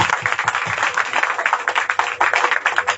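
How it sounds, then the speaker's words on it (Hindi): A church congregation claps hands in praise, a dense crowd of rapid, overlapping claps continuing steadily throughout at moderate loudness. "आइए अभी ताली बजाते हैं परमेश्वर"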